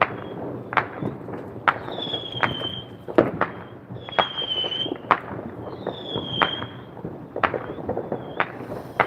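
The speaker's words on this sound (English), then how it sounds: "I need fireworks. There we go. Yay, there's some." Neighbourhood fireworks go off on the Fourth of July in a Las Vegas front yard, with repeated sharp cracks and bangs, several rising whistles, and crackling between bursts, some near and some farther off.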